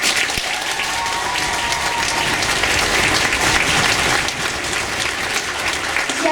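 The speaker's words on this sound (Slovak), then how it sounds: "Váš veľký potlesk patrí účinkujúcim žiakom z detskej ľudovej hudby a folklórneho" Concert audience at a charity folk concert applauding performing pupils from a children's folk music band and folklore ensemble, dense and steady clapping filling the hall for the whole stretch, loud and unbroken.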